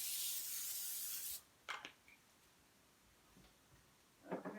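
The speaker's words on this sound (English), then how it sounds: "I am going to go ahead and spray it with my olive oil spray." A long hissing burst of olive oil cooking spray onto a foil pan, then a few brief clicks and taps, and a short rustle near the end.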